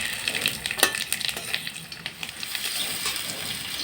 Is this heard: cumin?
yes